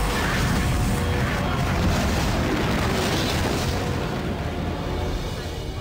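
Energy weapons fire from a starship in a Stargate SG-1 space battle, a dense continuous roar of booming blasts and explosions at high volume.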